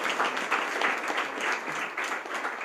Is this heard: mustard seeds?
no